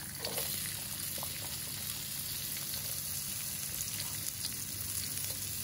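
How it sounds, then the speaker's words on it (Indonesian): Shallots sautéing in a pan for black squid-ink fried rice, giving a steady, moderately quiet sizzle with a continuous hiss of frying and no voices. "Ini kita bisa tumis bawang merah."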